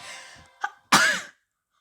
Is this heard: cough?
yes